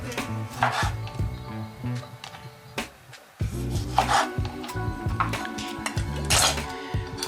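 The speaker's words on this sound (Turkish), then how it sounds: "Her zamanki gibi salata kasemiz çıkıyor domatesleri keseceğim." A knife cuts tomatoes for a salad in a home kitchen, with a bowl nearby. Irregular chopping taps and clinks of dishes and cutlery come up close and fairly loud, with no talking.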